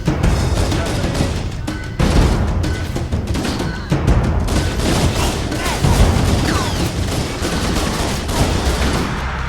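Heavy gunfire in Halo CE Anniversary: dense, continuous automatic bursts and explosive booms fill the whole stretch, loud and close, with occasional short pauses between volleys.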